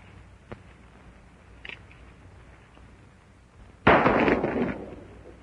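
Old gun fired in a 1930s western film scene, a couple of faint small pops followed by one loud, sharp gunshot with a short trailing echo.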